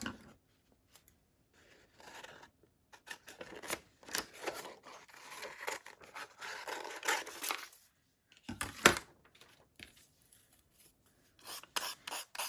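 Scissors snipping through glued copy paper, quiet close crisp cuts and rustling in irregular bursts, with brief pauses between strokes.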